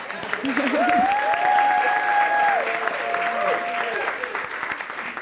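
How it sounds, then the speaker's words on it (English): A roomful of people applauds the AV team at a gathering, a steady, dense wash of clapping that runs for about five seconds, with a thin sustained tone gliding faintly above it. "Let's give a round of applause to our AV team"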